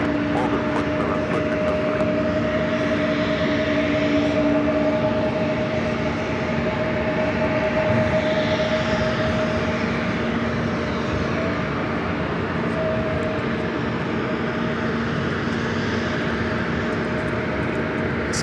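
Delta airliner taking off at LAX, a sustained jet engine roar with steady whining tones heard from a distance, while people talk over it.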